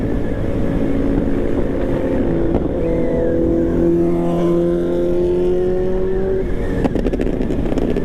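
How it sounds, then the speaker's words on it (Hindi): A superbike passes on a highway about 100 km from Chandigarh, heard from inside a moving vehicle. Its engine note rises and falls in a steady, loud pitch sweep over continuous road and wind roar, with no talking. "सुपर बाइक जाते हुए"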